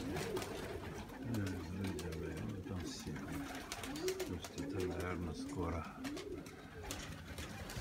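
A sick pigeon gives repeated low, throaty coos in short rolling phrases, heard close by. Someone speaks quietly over the birds.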